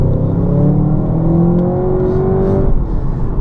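A 2016 Audi TT accelerates, its engine note rising steadily in a loud, smooth drone heard from inside the car, then easing off near the end.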